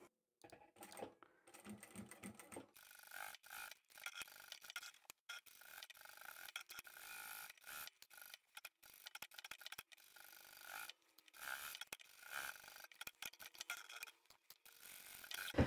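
Domestic sewing machine stitching down an apron pocket made from vintage fabric, running in steady bursts of rapid mechanical whirring and ticking with brief pauses between runs, close and moderately loud, no voices.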